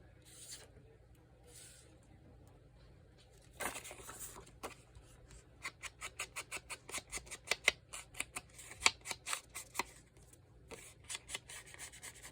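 Scissors snip through material in a quiet room, first a few scattered cuts, then a fast, steady run of crisp, close snips that grows louder toward the end.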